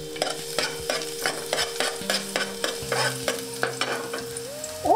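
Chopped garlic fries in soybean oil with a light sizzle as a spoon stirs and taps the pan in a steady rhythm of scrapes and clicks, close up and without voices.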